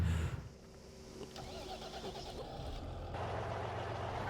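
A truck engine in Farming Simulator 15 on the Pleasant Valley Rivers map rumbles steadily, starting up and settling into a continuous low drone with mechanical whine, loud and unbroken, with no speech.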